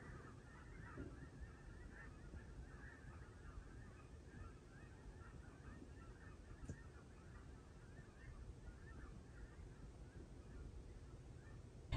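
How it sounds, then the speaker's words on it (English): Distant ducks honking and calling steadily over a dim, continuous outdoor hum on a dark, rainy morning, with no talking. "it sounds like ducks off in the distance"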